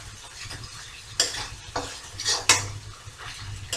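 Peanuts and onions frying in a pan are mixed with a spoon, giving a low sizzle under several sharp metallic scrapes and clinks against the pan.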